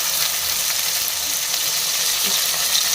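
Onions and tomatoes fry in a pan with a steady, bright sizzle and faint stirring throughout, close up and without any talk.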